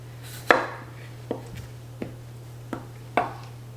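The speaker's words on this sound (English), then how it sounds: "I like to chop my ends off like that" Knife chopping the ends off medium-sized peeled potatoes on a cutting board, five separate crisp knocks spaced about a second apart over a low steady hum.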